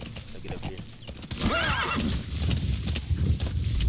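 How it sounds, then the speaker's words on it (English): A horse in the Metal Gear Solid 5: The Phantom Pain video game neighs with a clear whinny amid clip-clopping hooves, while game ambience and a voice continue underneath. "we'll put the horse somewhere away from us"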